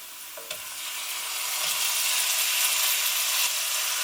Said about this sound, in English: We're going to throw in the blocks of ginger and the garlic.